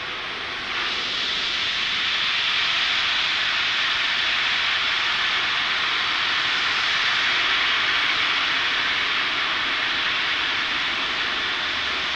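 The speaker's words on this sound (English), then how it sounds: "watch as Falcon 9 takes our 60 Starlinks into orbit" SpaceX Falcon 9 rocket launching Starlink satellites, a loud, steady, broadband roar that rises within the first second and holds unbroken throughout, with no talk.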